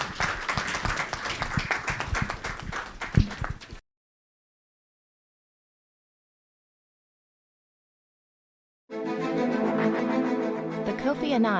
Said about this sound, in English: please give a round of applause to my panelists